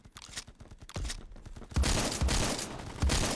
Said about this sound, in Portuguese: Eu começo a dar tiro pra tudo que é lado.